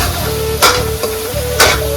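Chicken masala paste is roasted in a pan for a spicy chicken dish, with a loud close sizzle and two brief bursts of spatula scraping as it is stirred.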